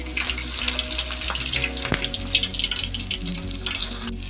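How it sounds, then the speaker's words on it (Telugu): Two or three green chillies fry in oil with a close, bubbly sizzle, while light scrapes and a sharp tap break through over a low steady hum. "ఒక్క 2-3 మిరపకాయలు ఇలా ఫ్రై చేస్తాం"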